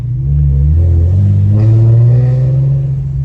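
An Infiniti G37 engine fitted with PPE longtube headers and an ISR single exhaust gives a loud, close, deep droning rumble that holds steady with a slight rise in pitch, with no voices over it.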